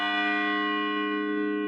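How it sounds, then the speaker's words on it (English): Cornell clock tower bells pealing, a steady sustained ring of bright overlapping bell tones that hold throughout at constant loudness, with no voices. "today we're celebrating the return of these bells"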